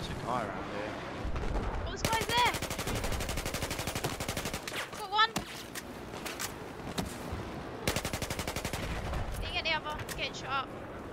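Rapid bursts of automatic gunfire in Battlefield 4, dense rattling volleys that come and go over several seconds with sharper single shots, while a player talks over the shooting.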